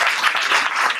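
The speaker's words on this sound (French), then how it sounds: "C'est pas grave, on peut l'applaudir, Madame Sapin." Dense, steady applause from an audience at a plenary company meeting, filling the short moment evenly with no voices standing out.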